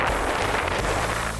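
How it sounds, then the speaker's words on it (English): Wind buffets a microphone outdoors beside a roadside ditch during an asparagus hunt, a steady, loud rumbling roar with constant low-end thumping and hiss that fills the whole stretch without a break, no voices heard. "so it got a little windy"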